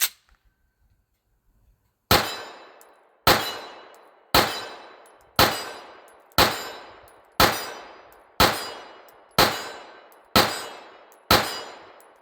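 Ten pistol shots of Sellier & Bellot 124 grain hollow point rounds from a Bul Armory handgun, loud sharp cracks spaced about a second apart with ringing decays, after a brief quiet lead-in.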